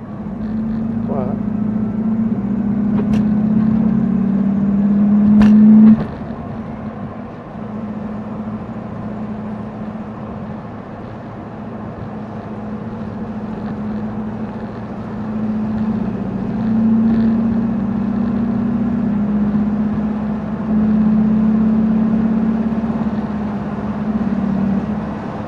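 A Porsche 356 drives along with its engine droning steadily inside the cabin, the pitch rising and dropping as gears change, while someone talks over it.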